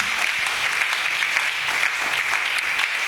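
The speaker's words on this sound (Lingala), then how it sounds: "nous acclamons très fort beta baboko makasi" An audience at a church service applauding hard, sustained dense clapping at even loudness throughout, with no speech over it.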